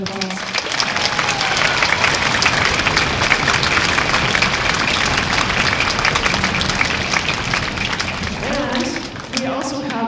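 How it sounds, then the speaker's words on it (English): Audience applause at a spring school concert, a broad sustained wash of clapping from a large crowd that continues for about ten seconds, with a voice faintly heard near the start and end. "let's just give everybody a round of applause"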